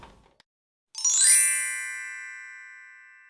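A bright notification bell sound effect rings once after a brief quiet start, then its clear metallic tone decays slowly for several seconds.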